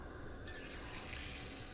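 A dab of lentil batter goes into hot oil, setting off a hissing, bubbly sizzle that begins partway through and holds steady for about a second, with no talking.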